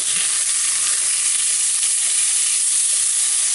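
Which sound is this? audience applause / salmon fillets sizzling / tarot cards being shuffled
salmon fillets sizzling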